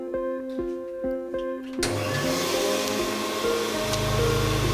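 A vacuum cleaner fitted with a nozzle attachment, used for a physics demonstration, switches on partway through and settles into a loud, steady roar after a quieter mechanical hum.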